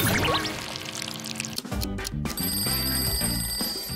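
An alarm clock rings with a bright, sustained electronic tone through the second half, following a pouring, liquid sound at the start; no one speaks.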